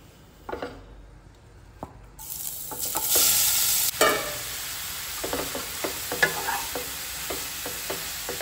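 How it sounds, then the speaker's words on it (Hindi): Grated carrot frying in melted ghee for a carrot sweet, a loud steady sizzle that swells as the carrot goes in, broken by repeated spatula scrapes and taps against the pan. "जब तक इसका कच्चापन निकल ना जाए ना तब तक हम इसको जो है ना घी में अच्छे से भून कर ले लेंगे"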